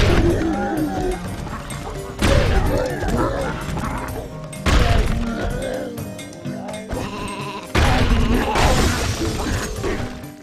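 Sheep bleat amid crashing, shattering block impacts in the video game Boom Blox, with several loud bursts of smashing and wavering animal cries layered over game sounds.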